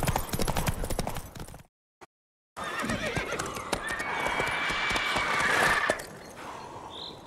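Horse hooves and a whinny in The Witcher 3, a neigh and clip-clop rising in a loud game soundscape, broken by a short silent gap before the galloping and ambience return.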